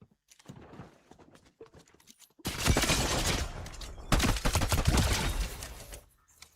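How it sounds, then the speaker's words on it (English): A new sniper rifle fires in Fortnite as two loud, clustered bursts of sharp cracks ring out close by, separated by a brief gap, with quieter clicks and handling noises before them. "Obviously, this is the new sniper."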